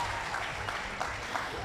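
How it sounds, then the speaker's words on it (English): Applause from an audience at an agripreneur prize competition finals, a steady patter of many hands clapping at moderate distance, continuous and fairly soft. "I need to hear a bigger round of applause"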